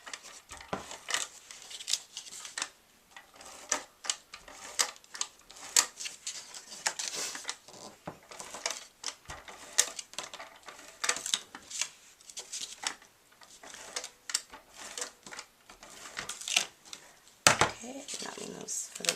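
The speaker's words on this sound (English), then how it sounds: "I am just going to use my ATG gun. So you're just going to put adhesive on these little strips that you cut." An ATG adhesive tape gun lays glue onto small cut paper strips for summer cards, giving repeated short clicks and crisp taps at close range, with a voice speaking intermittently.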